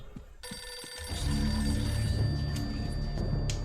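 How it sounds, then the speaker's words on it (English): A telephone rings in the video game Eternal Darkness, a steady electronic ring that fills the clip after a quiet start, loud and close, with game ambience beneath and no talking. "The phone's ringing."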